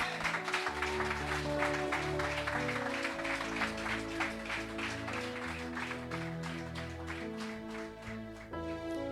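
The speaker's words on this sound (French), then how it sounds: "on se lève et on acclame pour dire merci à Jésus" A church congregation stands and applauds in thanks to Jesus, steady clapping under loud sustained music with held chords, continuing evenly throughout.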